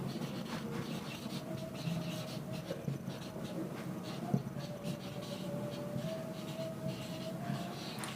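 Writing on a board during a linear algebra lesson, with faint, scratchy strokes and light taps repeating irregularly against a low room hum.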